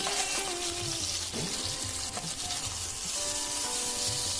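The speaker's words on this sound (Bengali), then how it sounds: "ঠিক এরকম লাল লাল করে ভেজে নিতে হবে" Fish heads fry in hot oil until reddened, a dense continuous sizzle and bubbling hiss close up, with soft clinks of a utensil and no talk.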